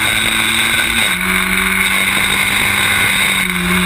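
Historic Formula Ford racing cars scream around the Snetterton circuit, a loud continuous engine whine whose pitch shifts as they change gear through the corners, with no voices over it.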